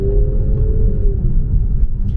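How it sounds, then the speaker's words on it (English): Deep, rumbling exhaust grumble from an Infiniti Q50 with a VQ engine, a widebody car fitted with test pipes, droning steadily while it is driven, with a faint tonal whine fading partway through and no talking. "it's got a little VQ grumble whenever you drive"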